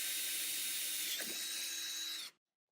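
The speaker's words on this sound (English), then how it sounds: "we have a spot that we can drill to get that bolt in" A power drill bores a bolt hole while a roll cage and fuel cell are fitted to a Honda Indy RX-5 VTEC race car, a steady high-pitched whine running for about two seconds before cutting off abruptly into silence.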